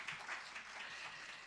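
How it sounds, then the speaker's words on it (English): Audience applause at a lecture on Armenian cultural heritage, a faint, brief patter of clapping from a distant crowd. "give her a round of applause"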